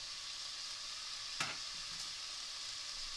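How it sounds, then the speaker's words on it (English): Browned meat for scouse sizzles in a pan as salt, pepper and flour are stirred through, a steady close frying hiss broken by one or two brief scrapes of the spoon. "again I'm just going to stir that round for maybe 2 minutes"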